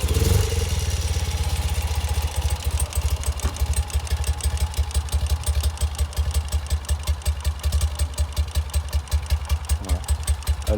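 A 1970s BMW R75/5 flat-twin motorcycle engine cranks and fires up, then settles into a steady, loud, rhythmic idle with even pulsing beats, heard close and alone.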